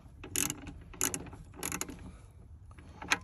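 A screw is driven into a factory hole while a rear car speaker is fitted, giving a few soft ratcheting, clicking bursts spaced about half a second apart, close by and alone.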